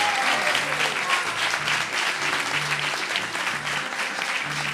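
A crowd at a televised talent show finale applauds steadily and loudly throughout, dense clapping with a low hum or music-like tones pulsing underneath.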